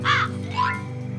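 A black crow caws in the I Spy Fun House video game, two loud harsh calls in quick succession over a low steady game background hum.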